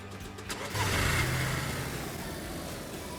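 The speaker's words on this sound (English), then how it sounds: "let's see if we can't reverse our car in here." A car engine in the video game DayZ revs up and then settles into a steady mid-pitched drone as the car reverses, fairly close and continuous, with no talking.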